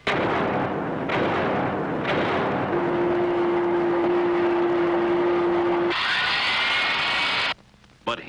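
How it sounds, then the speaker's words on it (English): Loud factory machinery roars continuously with heavy, grinding clatter and a steady mechanical drone, shifting to a harsher hiss near the end before cutting out abruptly. "What does a factory sound like?"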